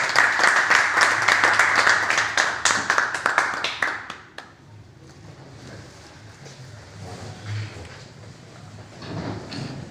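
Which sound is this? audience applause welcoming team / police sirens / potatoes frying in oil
audience applause welcoming team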